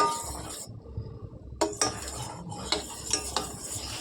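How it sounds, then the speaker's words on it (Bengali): Coffee powder being stirred into a cup in a home kitchen, the spoon scraping and clinking against the sides in short bursts with brief pauses, close and moderately loud, no talking. "গুঁড়োটা দিয়ে নাড়তে একটু লেট হয়ে গেছে দলা দলা পাকিয়ে গেছে"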